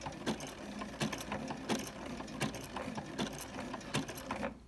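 A domestic sewing machine stitches in reverse to backtack a candy cane fabric coaster, its motor whirring in steady bursts with regular rhythmic clicks of the needle, close up and with no talk over it.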